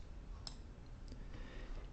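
Someone presses the O key on a computer keyboard while working in music-notation software. A couple of faint, quiet clicks are followed by a dull knock at the very end.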